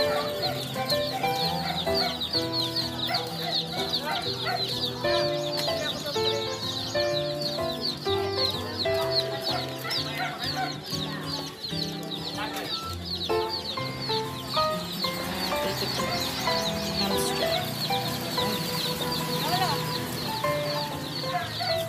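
Chickens and ducks cluck and chatter steadily at a village fiesta in the Philippines, a dense ongoing mix of bird calls heard alongside crowd noise and some talking.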